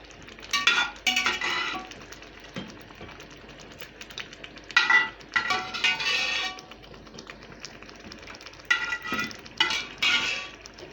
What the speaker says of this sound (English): I stir this now.